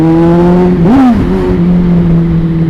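A Kawasaki Z800 motorcycle pulls away in traffic. Its engine note climbs in pitch as it accelerates, with a quick gear-change dip near the middle, and then settles into a steady, fairly loud drone close by. No one speaks.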